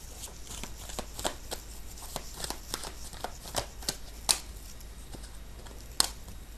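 A deck of tarot cards being shuffled: a rapid run of crisp papery riffles and slaps repeating through the whole stretch, close and fairly quiet, with two sharper snaps near the end and no talking.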